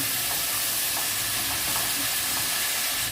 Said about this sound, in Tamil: இதை கொஞ்சம் பொன்னிறமாக வாடுறது வரைக்கும் வதக்கி எடுத்துக்கலாம்